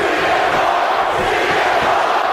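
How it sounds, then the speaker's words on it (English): Dense, steady roar of an arena crowd in the WWE 2K wrestling game, a loud continuous wash of cheering that holds throughout with no pauses. "this crowd on their feet here now"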